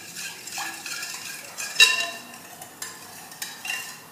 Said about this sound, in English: about a teaspoon of sugar, and about a teaspoon of olive oil. I'm going to stir that up.